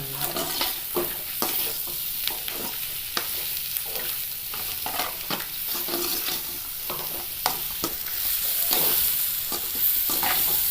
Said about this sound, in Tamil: வாழைக்காய் நல்லா வதங்கிடுச்சு பாருங்கள்